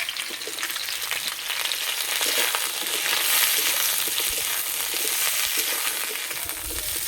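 Drumstick, eggplant and raw banana pieces, cut lengthwise, frying in hot oil in a pan, giving a steady, loud, close sizzle with occasional stirring scrapes throughout, no voices.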